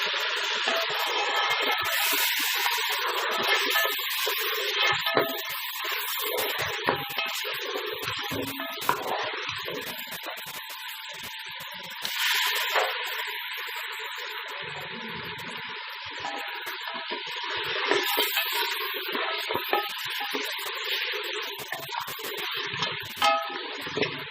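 Beef paya sizzling in ghee in a pot while being stirred: a dense, continuous frying hiss with repeated scraping and clattering stirring strokes throughout, close and fairly loud.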